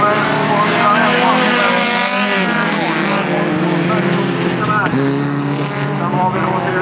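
Folkrace cars racing on a track at Vimmerby, engines droning loud and continuous with shifting revs throughout, under a race commentator's steady talk.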